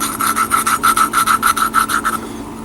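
A valve from a Mustang 125 engine head being lapped with grinding paste gives a rapid back-and-forth gritty rasping, about a dozen rhythmic rubbing strokes, loud and close before fading out, with no voices.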